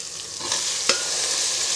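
Ginger garlic paste frying in a pan for tomato bath, a steady close sizzle with soft scrapes of stirring over it and no talking.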